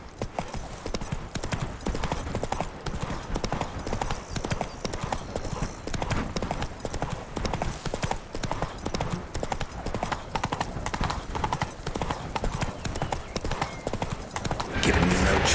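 Horse hooves clip-clop steadily and continuously in The Witcher 3 as the rider urges Roach onward, a rhythmic trot loud and close with occasional faint whinnies and brief talk mixed in.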